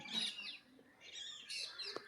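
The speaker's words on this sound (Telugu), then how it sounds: "పక్షుల కిలకిలలు" Birds chirp and tweet in quick, faint bursts around a quiet village school, with short calls rising and falling against near silence.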